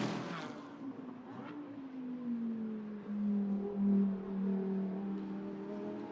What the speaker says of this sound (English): That's the Lamborghini hurtling past the wall cam.